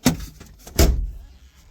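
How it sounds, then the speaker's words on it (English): A small car's back door clunks open near the start, opened from the driver's seat, followed by a second solid thunk of a door shutting, with faint rustling in between. "Open the back door from the driver's seat."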